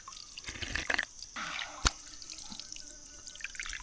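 Water trickles and spatters from a natural spring tap in Meghalaya, a faint, steady flow near at hand with a few sharper drips and splashes.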